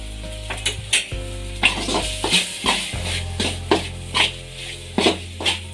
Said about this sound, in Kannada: ಶುಂಠಿ ಬೆಳ್ಳುಳ್ಳಿ ಪೇಸ್ಟು ಹಸಿ ವಾಸನೆ ಹೋಗೋ ಗಂಟ ಫ್ರೈ ಮಾಡ್ಕೋಬೇಕು